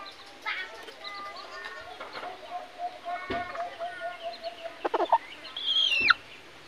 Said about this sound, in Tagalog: Isa ding labuyo yan, pure. Purong labuyo.